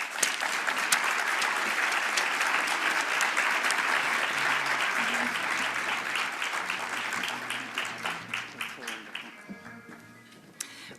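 A conference audience at a Canadian science policy event claps in a full, sustained round of applause that thins into scattered individual claps before fading out near the end.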